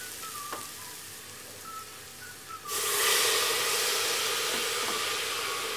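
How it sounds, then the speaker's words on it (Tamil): Tomatoes drop into a pan of sautéed onion, ginger and garlic for chicken curry and start frying. A sudden loud sizzle breaks out partway through and then keeps hissing steadily. "தக்காளி ஆட் பண்ணிவிட்டு இதை நல்லா ஃப்ரை பண்ணிடலாம்."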